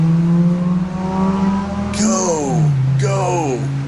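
A Volkswagen Passat drives past on a wet road as snow flurries fall, its engine and tire noise swelling and fading loudly over a steady background hum.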